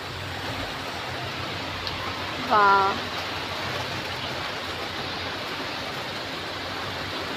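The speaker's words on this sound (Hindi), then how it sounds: "देखिए कितनी अच्छी बारिश आ रही है।" Heavy rain pours steadily outside, a dense, even hiss that runs through the whole stretch, with a woman's brief exclamation rising over it partway through.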